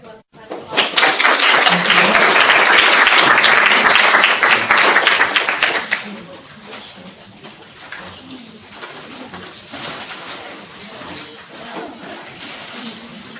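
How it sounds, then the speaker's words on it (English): An audience at the end of an academic seminar on injury and violence breaks into loud applause for about five seconds, then the clapping drops to a scattered, quieter patter that lingers. "applause."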